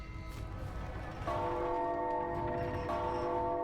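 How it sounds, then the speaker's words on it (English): A tiny bell in a video game rings out surprisingly loudly, a sharp metallic strike that sustains as a bright ringing tone and is struck again about a second later, over a quiet background. "That's a loud sound for such a tiny bell."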